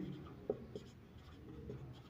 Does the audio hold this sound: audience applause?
no